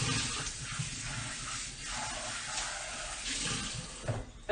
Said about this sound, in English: I'm just going to give it a quick rinse.